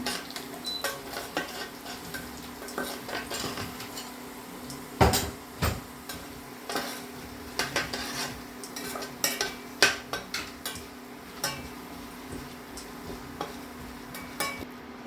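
Oil sizzles softly in a pan as chana dal and urad dal fry for tempering while a spoon stirs and scrapes against metal in repeated clinks; no one speaks.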